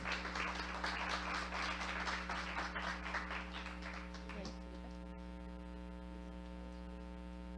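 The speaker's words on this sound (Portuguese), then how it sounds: "Salva de palmas, por favor." An audience applauds a presenter walking onto the stage at a pitch day event, a burst of scattered clapping that fades after about four seconds and leaves a steady electrical hum.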